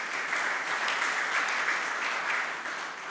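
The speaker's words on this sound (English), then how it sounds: "So round applause for these people." An audience at a corporate forum conference breaks into steady, continuous applause, a dense wash of clapping with no pauses.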